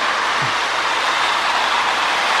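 K-Line toy freight trains made from old Marx molds, Hershey and Coke S-gauge freights, run on a model track with a steady close rolling whir and faint clatter throughout.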